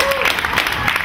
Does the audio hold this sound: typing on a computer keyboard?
no